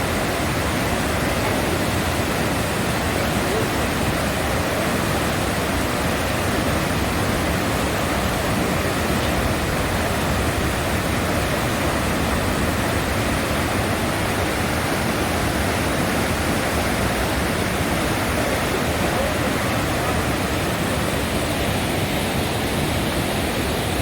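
The Kaweah River rushing past Hospital Rock in Sequoia National Park, a loud, steady, broadband roar of flowing water that holds unbroken throughout with no voices.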